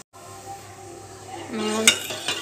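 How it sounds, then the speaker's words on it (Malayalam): Milk is poured into a pot and stirred for a fruit dessert, with a metal pot clanking, a spoon scraping and light clinks building over a faint hiss, close by and without talk. "നമുക്ക് ഈ പാലിനൊന്ന് തിളപ്പിച്ചെടുക്കാം."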